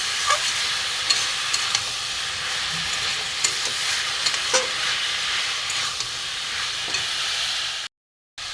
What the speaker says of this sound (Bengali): দিয়ে আমি আস্তে আস্তে কষিয়ে নেব, তলায় না ধরে যায়।